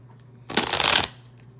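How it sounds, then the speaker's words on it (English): A deck of tarot cards shuffled once in a quick riffle, a close, crisp burst of papery rustle lasting about half a second against a quiet room. "I had just started moving all on its own when I started shuffling it."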